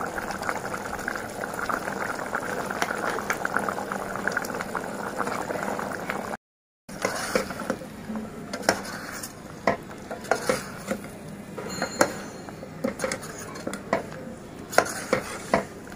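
Thick ground onion and coconut masala paste goes into a pot of cooking mutton for a Maharashtrian curry, with steady wet stirring and bubbling, a short silent gap, then scattered spoon and pot clinks.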